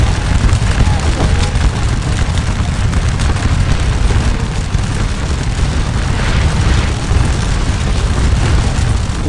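Musket volleys and cannon fire from the Scourge of War: Waterloo video game form a dense, continuous rumble of battle with crackling gunfire and low booms, loud and unbroken throughout.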